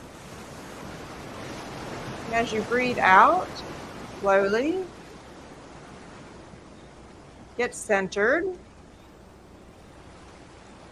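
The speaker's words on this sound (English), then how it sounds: "enjoy the ocean sounds" Recorded ocean waves wash as a steady, soft broadband hiss beneath a calm voice guiding slow breathing, the surf continuing alone between phrases.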